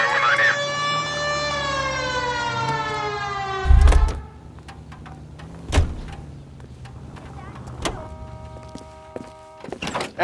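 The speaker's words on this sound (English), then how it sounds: "Hit the siren." A police car siren in the video game L.A. Noire wails loudly at first, then cuts out; heavy thuds like car doors follow, with a faint tone lingering in the background.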